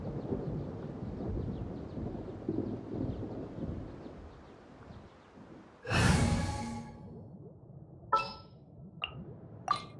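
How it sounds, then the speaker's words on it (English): Thunder from a storm in the video game Genshin Impact: a long low rumble fades out, then a sharp crack bursts in, followed by several brief rattling strikes. "Only innocent children and timid adults are scared of thunder."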